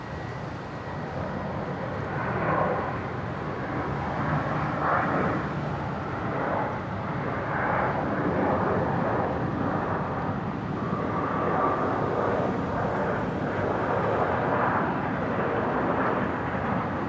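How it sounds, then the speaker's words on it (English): A Qantas airliner arriving from Melbourne lands at Brisbane International, a steady, distant jet roar with a broad rumble that swells gently and holds throughout. "next arrival, just about to touch down, Qantas 616"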